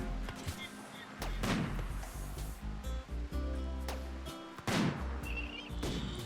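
Rimworld combat gunfire comes as repeated sharp shots and heavy booming impacts over a rumbling battle backdrop, some close and loud, with a voice talking over parts of it.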